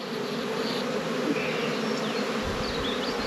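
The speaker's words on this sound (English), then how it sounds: "we need more bees in this nuke box" Honey bees buzz loudly and steadily as three frames of them are shaken into a nuc box, a dense continuous hum filling the whole stretch with some low thumps near the end.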